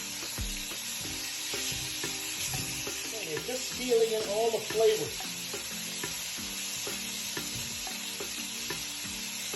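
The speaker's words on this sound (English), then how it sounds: "That's a beautiful sizzle we got there." Oxtail sizzles steadily as it sears in hot oil for Jamaican oxtail, a constant crackling hiss, while a person talks over it; brief louder spatter partway through.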